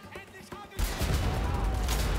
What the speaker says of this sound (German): Aber da können wir auch unsere Kampfpistole ausprobieren, oder?